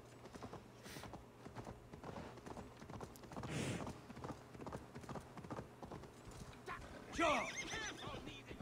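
A horse in Assassin's Creed Valhalla clip-clops along at a moderate pace with occasional creaks, then lets out a loud, quavering neigh near the end; the game ambience stays fairly quiet underneath.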